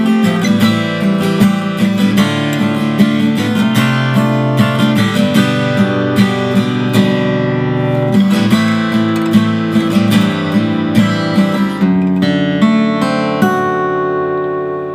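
Guitar chords of a song are strummed in a steady rhythm, bright and close, with layered parts played together alone for about fifteen seconds before ringing out.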